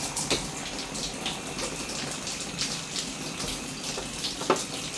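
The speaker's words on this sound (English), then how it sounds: "I'll hose that down a little bit more." Water hose spraying down an ice machine, a steady broadband wash of running water with small splashy bursts throughout, close and continuous with no talking.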